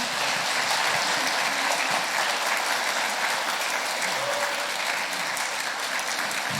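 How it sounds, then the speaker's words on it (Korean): Applause from a church congregation at a retirement and ordination service, a dense, steady clapping that fills the room and holds evenly throughout. "박수해 주시길 바랍니다"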